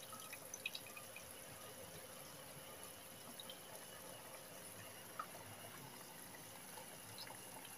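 Soaked ingredient for kare-kare sauce strained out of hot water in a home kitchen, giving a faint, steady trickle with scattered small drips against quiet room noise and no talk.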